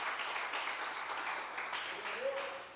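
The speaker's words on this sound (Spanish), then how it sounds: "aplaude al Señor" A church congregation applauds during a devotional service, a steady wash of clapping heard from across the room at moderate level, with voices mixed in beneath it.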